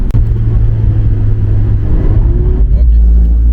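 A stock Mazda MX-5 ND 1.5 drifting on a course, its engine droning loud and close with a rising rev, while people seem to talk underneath.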